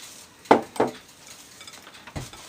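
Dry ingredients for soft pumpkin cookies are stirred by hand in a mixer bowl: a few quick scraping clinks against the bowl, close and fairly quiet.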